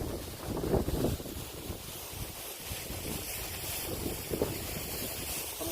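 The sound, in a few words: waterfall water falling and wind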